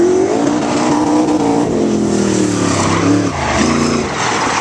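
A high-horsepower winged sprint car roars loudly and continuously at Mid Michigan Raceway, its engine pitch falling and rising with a brief dip near the end as the throttle is eased and reapplied.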